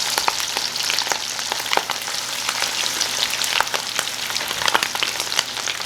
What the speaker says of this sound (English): be very careful, this will pop because of that coconut